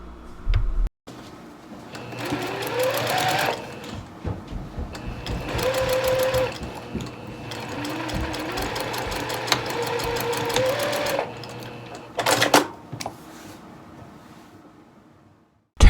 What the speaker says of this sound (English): Using a 1/4 inch seam allowance, sew along the 2 long angled sides of the connectors.